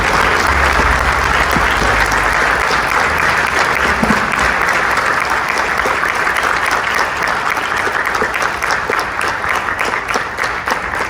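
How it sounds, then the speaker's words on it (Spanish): A conference audience claps loudly and steadily, a dense wall of applause that continues without a break for about eleven seconds and eases off slightly toward the end. "Recibamos con un fuerte aplauso, por favor."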